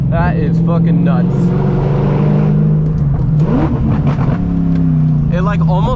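Loud, raspy roar of a straight-piped BMW M60 V8 in an E30, revving and pulling through gears up close while people talk excitedly over it.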